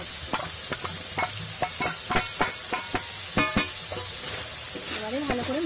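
Prawns sizzle in a hot pan for a malai curry while a spoon stirs and scrapes through them in steady strokes, close and moderately loud, with a short voice at the end.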